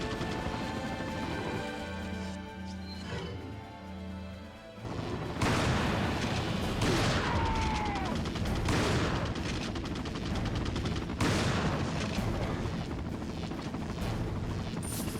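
Rifle gunfire in Resident Evil 4 on PS2 breaks out after a quieter opening, with loud repeated shots and crashes carrying on over a dense game soundtrack.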